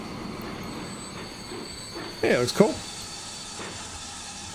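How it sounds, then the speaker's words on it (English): A wheat-hauling freight train in Transport Fever 2 runs with a steady rail rumble and a brief burst of louder wheel noise in the middle, while a person talks over it. "Yeah, this is a wheat train."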